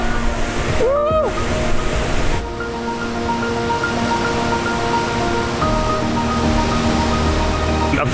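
Ban Gioc waterfall in North Vietnam roars as a steady, loud, broadband rush of falling water, close and unbroken, with a short whistle-like sweep early on and faint tonal hum beneath.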